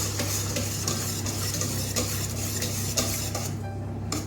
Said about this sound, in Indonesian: dan kita aduk.